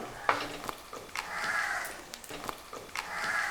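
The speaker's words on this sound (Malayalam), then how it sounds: "ഇനി ഇതിലേക്ക് നമ്മൾ ഇനി സവാള ഇടുക" Sliced onions sizzle in hot oil in a pan for Kerala hotel-style beef curry, a steady crackling hiss with stirring and scraping knocks breaking through in a few sharp bursts, close and moderately loud.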